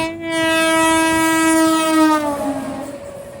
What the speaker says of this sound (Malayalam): ട്രെയിൻ ഇപ്പോൾ ചെങ്കൽപ്പട്ടു ജംഗ്ഷനിലേക്ക് എത്തുകയാണ്.